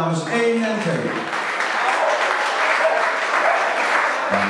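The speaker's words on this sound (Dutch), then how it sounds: "Ik hoor een applaus namen voor de dames 1 en 2." Steady applause from an audience at an award ceremony for a nature run, dense even clapping throughout with a brief voice at the start.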